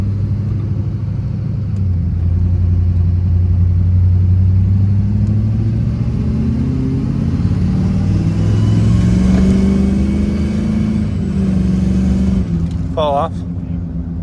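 A Duramax diesel truck with a 5 inch straight pipe exhaust pulls away with a deep, loud rumbling drone that rises as it accelerates and then holds steady, close by, with people talking over it.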